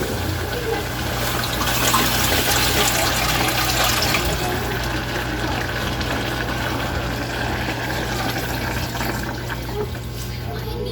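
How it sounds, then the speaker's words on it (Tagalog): Continuous rush of water pouring into a pot of sautéed mung beans, loud and close, with a faint background hum; no clear talking. "Dagdagan po natin ng tubig."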